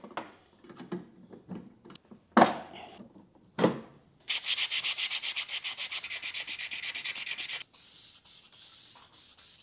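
Hand scuffing of car wiper arms: a few scattered scrapes, then a long run of fast, rhythmic rubbing strokes, close and fairly loud.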